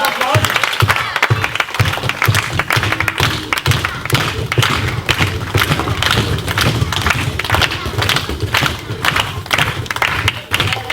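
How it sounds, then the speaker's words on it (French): Clapping and cheering from a crowd after a karate demonstration at a club event, steady and fairly loud throughout, with voices mixed in and occasional thuds. "on peut les applaudir, c'est bien au niveau combat"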